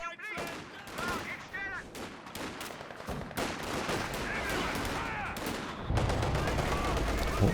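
Dense battle gunfire in Company of Heroes 2, with rifle and machine-gun bursts from a building aimed at shock troops, sounding steady and busy over a continuous combat din, with a voice talking over it.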